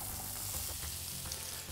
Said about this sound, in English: Just going to add our potatoes straight in there.